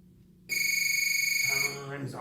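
A loud electronic workout timer buzzer sounds in one sustained, pulsing blast of about a second, then cuts off and is followed by a brief voice.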